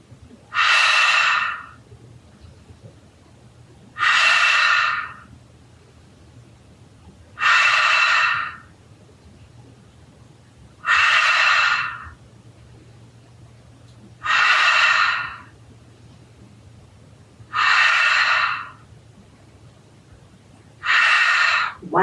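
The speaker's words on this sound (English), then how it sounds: "Inhale, close the drapes, and exhale." Deep, slow breaths during a calming breathing exercise, seven long airy inhales and exhales spaced evenly about every three seconds, close and loud with quiet gaps between.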